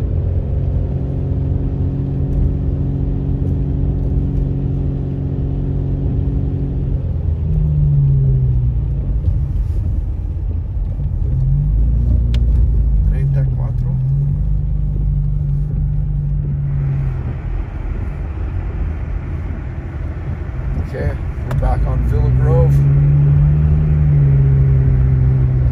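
A car drives through a mountain town as a winter storm rolls in. The engine gives a steady, loud rumble with shifting tones as it slows and speeds up, and a higher whine rises partway through.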